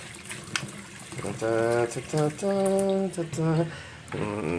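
Hot water glugs and splashes as it is poured out of a bottle in an at-home science experiment, coming in several short gurgling bursts, close and fairly loud.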